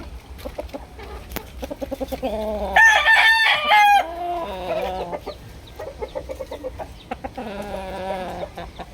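A Boston Sweater gamefowl rooster of Larry Romero bloodline crows loudly and close, with a long cock-a-doodle-doo in the middle and another toward the end, between repeated clucks.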